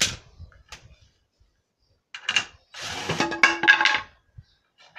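A clamp being removed from glued wooden garden furniture: a few light knocks, then a burst of ratcheting and scraping metal-on-wood sounds, close and fairly loud, with quiet gaps between.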